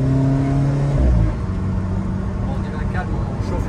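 An Alfa Romeo fitted with a green air filter revs its engine hard, a loud throaty rise that drops back to a rumbling idle, heard from inside the car with people talking over it.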